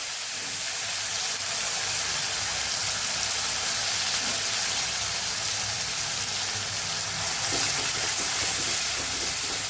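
Onions sautéing with cumin seeds and asafoetida in a hot tempering oil, a steady, loud broadband sizzle and hiss that holds evenly throughout with no talking.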